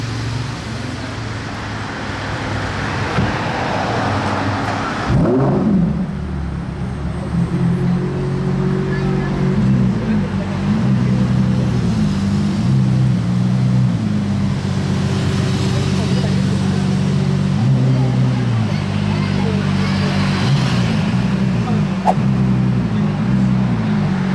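Several cars, including a Ferrari Daytona SP3 supercar, idle and warm up their engines together in Monaco, a steady low rumble with revving swells continuing throughout, while people talk over it.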